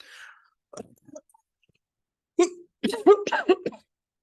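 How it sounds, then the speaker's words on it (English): A few short coughs, then a harsher burst of several rough coughs in a row, loud and close, with quiet gaps between. "I'm very sorry on this coughing here."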